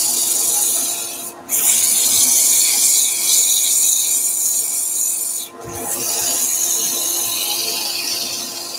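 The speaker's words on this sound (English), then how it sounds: "Starting with 100 grit, let's do all the hard work with the coarser grades" A wooden bowl spinning on a lathe is sanded with coarse 100 grit sandpaper, giving a loud continuous abrasive rasp close by, with two brief dips where the paper lifts off, no voices.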